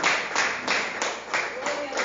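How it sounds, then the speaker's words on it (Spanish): Church congregation clapping together in praise, a dense, steady patter of many hands with faint rhythmic pulses, filling the room at moderate loudness. "déle un aplauso al Señor"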